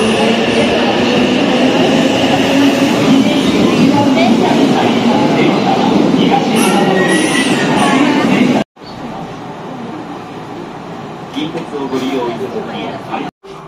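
A train pulls into a station in Japan, a loud steady rumble of rolling rail cars filling the first eight seconds, then a quieter hum after a brief break as the train settles, with people speaking nearby.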